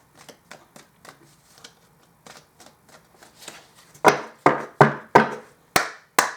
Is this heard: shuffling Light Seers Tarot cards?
yes